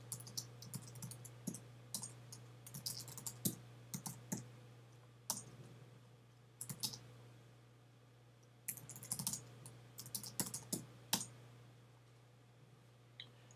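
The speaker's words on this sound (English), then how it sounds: "I run PHPUnit by typing PHPUnit, followed by the name of the folder" Typing on a computer keyboard at the command line while running PHPUnit tests, clustered bursts of sharp key clicks with short pauses between, close and clear over a steady low electrical hum, with no speech.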